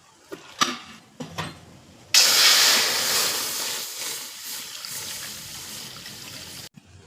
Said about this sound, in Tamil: பாலை ஃபில்டர் பண்ணி சேர்த்துக்கலாம்.